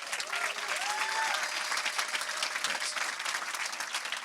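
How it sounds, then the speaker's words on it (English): Warm audience applause for the speakers at a climate event, continuous crowd clapping filling the whole stretch, with a faint tone or voice briefly audible underneath early on. "And a huge round of applause and thank you for our wonderful speakers."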